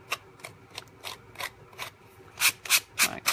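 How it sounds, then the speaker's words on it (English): A small handheld sander works the edge of a paper greeting card in about ten short rasping strokes. The strokes come at a steady rhythm, grow louder toward the end, and are close with no talking. "Fix that with my little sander right there."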